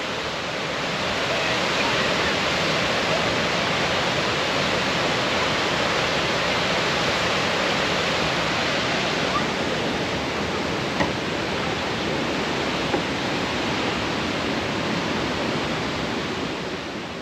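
Powerful rushing water at Hamlin Lake, Ludington, Michigan roars continuously at close range amid mist, a thick unbroken wash of noise that holds steady throughout.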